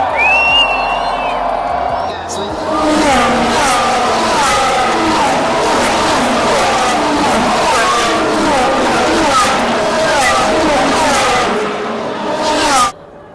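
Formula 1 cars launch off the grid at the Las Vegas Grand Prix, a loud sustained wave of high-pitched engine whine and rising revs sweeping past over crowd noise, ending abruptly.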